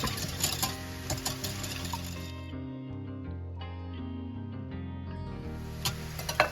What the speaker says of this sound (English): I'm gonna go ahead and whisk this together before adding in the Bisquick, just so I can break the eggs up a little bit.